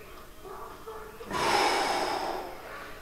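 A person draws a deep breath in the middle of a guided stretching exercise, a sudden broad airy rush that swells and lingers for over a second, fairly close and alone without talk.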